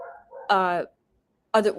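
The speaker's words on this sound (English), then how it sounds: "the dog was barking" A dog barks twice in loud, close bursts separated by a short silence, with a quieter voice-like sound just before the first bark.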